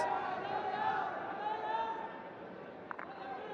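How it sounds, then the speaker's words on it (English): Sparse crowd of Indian supporters in the stands at a men's field hockey match against Germany, a steady hum of distant cheering and murmur under commentary, with a brief sharp accent near the end. "Sporting, if not sizable crowd for the Indians in support."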